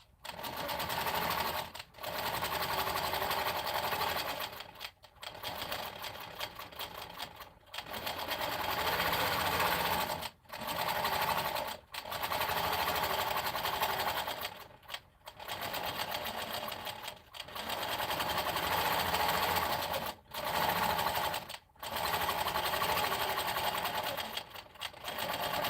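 A longarm quilting machine stitching in the ditch hums in long steady runs, stopping briefly about every two to five seconds before starting again, close and moderately loud.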